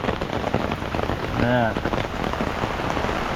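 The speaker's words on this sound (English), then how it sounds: "You guys can see, very heavy rain." Very heavy rain from Cyclone Jasper pours down in a steady, dense roar that fills the whole clip, with a brief tonal sound rising over it midway.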